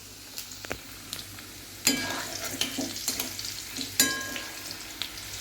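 Potato pieces fry in a pan of hot oil for a chicken curry, giving a steady sizzle broken by sharp crackles and scraping stirs, close and moderately loud with no voices.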